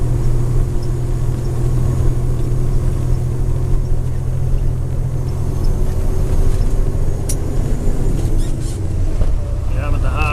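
A heavy truck rumbles along a rough road, its deep, steady low drone continuous and loud throughout, with faint rattles riding on top.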